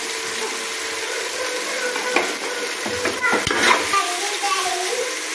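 Spices with salt and chili fry in a pot while being stirred, a steady close sizzle with scraping spoon strokes and a few louder clanks midway, no talk.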